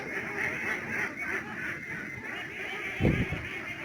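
Ducks quack and honk from a pond farm where ducks are kept above a pond stocked with catfish, a steady cluster of calls with a louder burst near the end.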